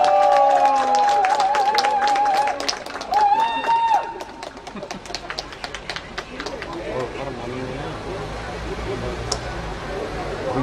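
An election rally crowd in Namwon claps to welcome a speaker to the stage, with a scattered run of claps and crowd noise under voices and a pitched sound that fades as the clapping thins out.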